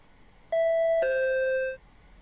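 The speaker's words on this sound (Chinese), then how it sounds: "难不成这个电话声跟铃声都是他妄想的吗？" A doorbell rings in a Japanese horror video game: two clear electronic ding-dong tones, the second lower, ringing out sharply and then fading over a faint steady hum.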